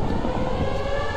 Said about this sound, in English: they Koros added in another thing called the manual redstone siren